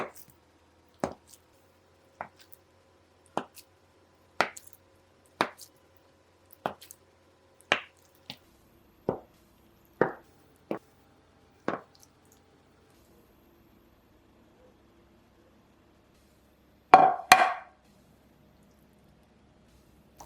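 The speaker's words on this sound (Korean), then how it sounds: "두부는 작은 네모 모양으로 썰어주세요" A knife cuts tofu into small cubes on a board, sharp, close knocks falling about once a second in a steady run, then a pause before two heavier thumps.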